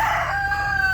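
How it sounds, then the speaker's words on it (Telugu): A fighting rooster on a farm lets out a single brief, loud crow close by, over a low background hum. "పందెం కోడి చేస్తాడు దాన్ని"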